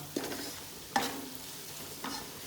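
Spices tempering in a pan on a medium flame for taro in a yogurt-buttermilk gravy: a steady sizzle broken by three distinct scraping stir strokes of a spoon against the pan, close and moderately loud.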